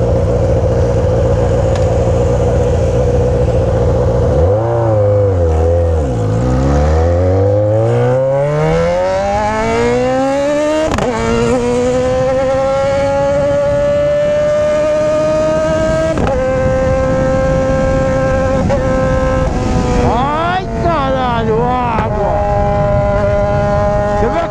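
A Yamaha XJ6 motorcycle fitted with a Fuel Tech system revs and pulls away loudly, its engine note climbing smoothly through the gears with sharp shifts and throttle blips, close up over wind noise.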